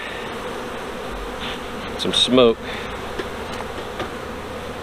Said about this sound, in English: You can see the big cluster of bees here in the top